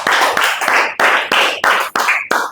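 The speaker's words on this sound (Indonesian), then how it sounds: "Tepuk tangan untuk Husain." Students in a classroom clap in a loud, rhythmic pattern of about eight sharp bursts separated by short pauses.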